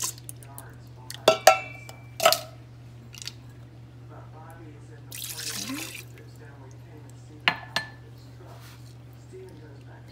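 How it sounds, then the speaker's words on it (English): Brown rice, coconut milk and water go into an Instant Pot with clinks and knocks of a pot and utensils, a short pour of liquid and a few scattered taps, close by and sparse. "Go ahead and combine all the ingredients, your brown rice, the whole can of coconut milk,"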